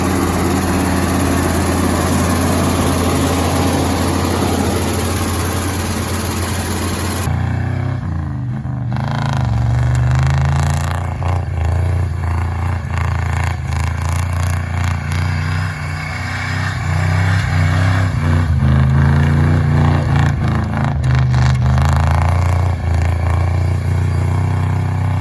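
A 1979 Ford F250 4x4 pickup engine runs steadily and loudly during a test drive, a continuous low rumble with a shift in tone partway through as it moves off.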